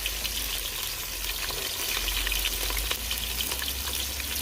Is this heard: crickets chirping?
no